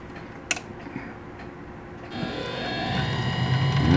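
A tap held in a machine chuck cuts a thread into a hole in low gear. A few faint ticks come first, then a grinding mechanical whir starts and swells steadily louder.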